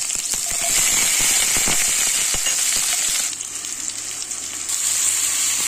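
Green onion and green chilli fry with cumin in a kadai, producing a loud, continuous sizzle with sharp crackles and scraping stirring strokes, easing briefly midway before surging again.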